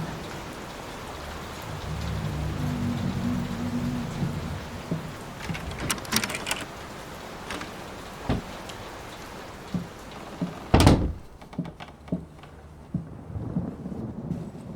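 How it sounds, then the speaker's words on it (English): Steady rain pours throughout a storm in the video game Layers of Fear (2023), with low rumbling, scattered drips and splashes, and a loud crack of thunder near the end before quieter patter. "Will this storm ever run out of rain?"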